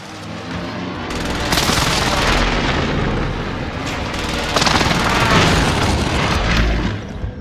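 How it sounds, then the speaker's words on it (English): Heavy precision airstrike explosions in Call of Duty: Modern Warfare, a series of loud, close booming blasts rolling one into another with a dense roaring rumble and crackle throughout. "Allied precision airstrike incoming."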